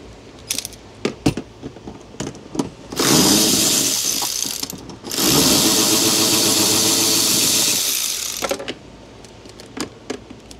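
Electric ratchet spinning bolts out on a Chevy Express 2500 with a 6.0 engine, two long loud whirring bursts, each several seconds, separated by shorter clicks and knocks in a work area.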